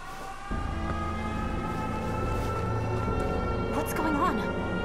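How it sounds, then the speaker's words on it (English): An air raid siren wails steadily in the video game 13 Sentinels, rising in after a brief quiet start and holding its drawn-out tone, with some other game sounds layered over it. "An air raid. They're trying to bomb the factory."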